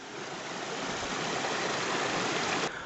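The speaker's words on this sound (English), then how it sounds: "It's this pretty waterfall here on the way up." Steady broadband rush of a waterfall beside a mountain path on a Scottish trail, loud and continuous from start to finish, with no voices.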